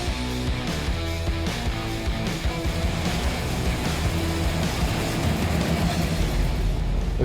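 Hemi-powered muscle car engine while driving, a continuous loud rumble and drone with steady road and wind noise, close and unbroken throughout with no talking.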